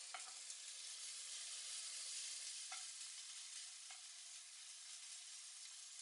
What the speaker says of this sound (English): Gonna get that nice little sear going.